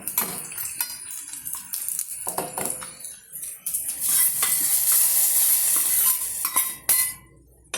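Hot tempering oil poured into a pot of sweet potato erissery curry, giving a sudden loud sizzle and hiss after several clinks and stirring scrapes, then cutting off abruptly near the end.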